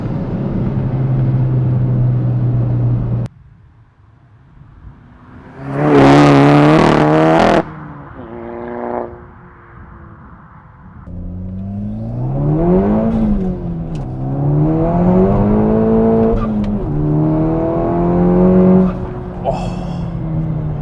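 A Seat Leon Cupra R engine revs loudly and close, climbing in sharp bursts and then rising and falling through several throttle blips, with a steady idle before and between, mostly on its own.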